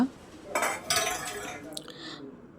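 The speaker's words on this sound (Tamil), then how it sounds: "இப்போ க்ளோஸ் பண்ணி விட்டுடலாம் லிட்டை நல்லா." A metal lid clatters shut on an idli steamer pot holding a wrapped fish parcel, a brief pair of clanking, ringing hits followed by a short metallic rattle, close and fairly loud.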